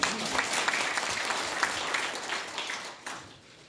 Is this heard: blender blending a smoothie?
no